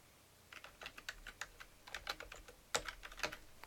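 Fingers type on a computer keyboard in quick, irregular bursts of close, crisp key clicks, with brief pauses between groups of strokes.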